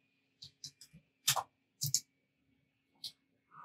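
Several light keystrokes on a computer keyboard, typed in a few short, quiet clusters with gaps between them, heard alone in a quiet room.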